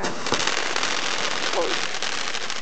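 Fireworks exploding outdoors, a dense, loud, continuous crackle of bursts lasting throughout, with a dog nearby and people close by.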